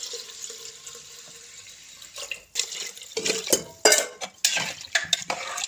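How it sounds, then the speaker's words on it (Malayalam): A ladle stirs coconut rice in a pot: after a quiet start, a series of scraping clanks and clatters of metal against the pot come in uneven bursts, close and fairly loud. "ഞാൻ നല്ലോണം തവി വെച്ചിട്ട് കയ്യിൽ വെച്ചിട്ട് ഇളക്കണം"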